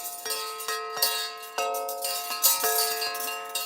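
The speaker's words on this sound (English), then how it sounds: "they make great wind chimes. Listen to this one. This big one here, listen." A large glass wind chime from a Vitragraph glass pull rings with repeated clear, bell-like strikes, several overlapping tones ringing out close and fairly loud in an irregular rhythm.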